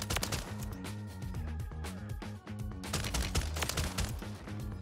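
Rapid bursts of RAAL LMG fire in a first-person shooter game, dense repeated loud shots over a steady music-like backdrop, with brief pauses between volleys.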